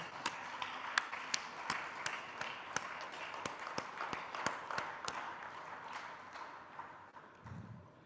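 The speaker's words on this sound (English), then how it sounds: "let us really clap him" A small crowd at a founder's day award ceremony gives a faint, sparse round of applause, with individual claps standing out irregularly against a quiet room.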